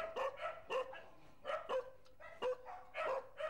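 Stray dogs at a pound in Bangkok bark in a burst of sharp, fairly close yaps and woofs that come in quick runs, with several barks overlapping.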